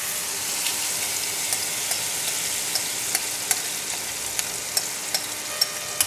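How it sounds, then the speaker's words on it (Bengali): Spice paste poured into melted ghee sizzles continuously in a pan, with small crackles and pops scattered over a steady close hiss, and no speech. "আমি ঘি মেল্ট হয়ে গেছে, এবার আমি এখানে পেস্ট ঢেলে দিচ্ছি"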